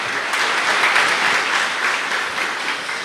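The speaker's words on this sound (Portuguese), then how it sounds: "Uma salva de palmas então a Nathalie." Church congregation at a Sunday Mass applauding, a dense, steady round of clapping from many hands filling the room, loud and close, with no talking.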